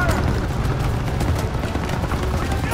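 Explosions and gunfire rage through a Call of Duty WW2 battle, a dense continuous wall of booms and shots with a low rumble under everything, loud and close throughout.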